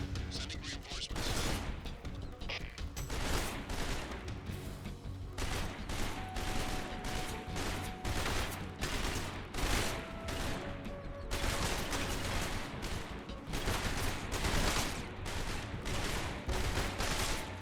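Gunfire in the video game Metal Gear Solid Delta: repeated bursts of automatic fire and single loud shots in a dense, ongoing firefight, with a voice speaking at times.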